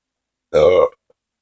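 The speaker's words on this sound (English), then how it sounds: "Why did that burp taste like banana split?" A single loud, close burp lasting under half a second, abrupt and throaty, in an otherwise silent room.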